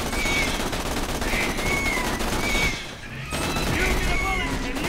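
Rapid machine-gun style fire from guns in the video game Borderlands 2, a steady loud stream of shots with a brief pause midway before the shooting resumes.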